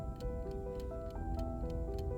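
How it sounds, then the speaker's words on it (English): A grandmother's clock ticks steadily and evenly in a quiet room, each tick distinct and fairly close, with a low hum underneath. "All that kept me company was the ticking of Grandma's clock"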